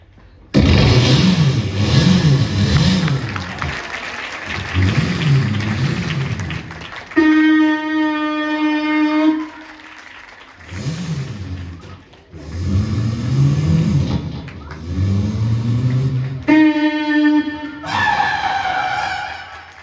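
A voice imitates a four-wheeler car starting up and driving off: sputtering cranking bursts, rising revving whines and tonal engine hums in loud, closely miked segments with brief pauses between them.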